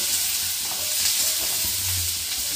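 Chopped cabbage with salt cooking in a pan, a soft steady sizzle and hiss close up, with faint stirring and no talk.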